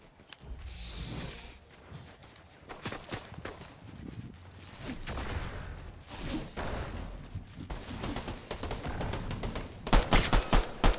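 Gunfire in the video game Fortnite rattles in moderate, uneven bursts over busy game ambience, building to a denser, louder volley of shots near the end.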